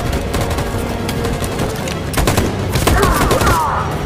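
Covering fire in Detroit: Become Human, a thick loud stream of overlapping gunshots and bursts under battle noise, with a voice now and then in the mix.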